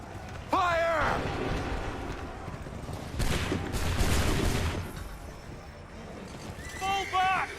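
A volley of musket fire erupts in Assassin's Creed 3, a dense roar of overlapping shots lasting a couple of seconds amid battlefield noise, with shouted voices before and after.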